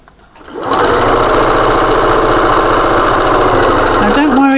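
A sewing machine stitches fabric for a table runner, starting up after a short quiet moment and then running loud and close in a fast steady whirring drone.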